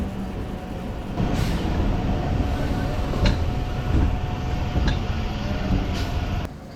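The Narasapur MEMU Express 17269 rumbles steadily at Undi railway station. A dense, continuous carriage roar carries a faint high tone and a few sharp clicks and bumps. Near the end the noise drops off.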